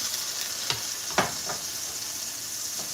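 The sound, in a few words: onions sautéing in oil in a pan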